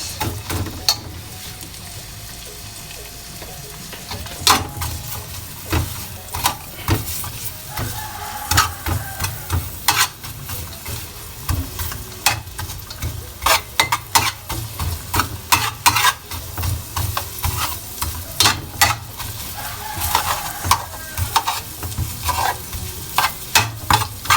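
Onions frying in a pan for a fish sarciado, a continuous sizzle broken by frequent sharp clicks and scrapes of a utensil stirring against the metal, close and fairly loud with no voices.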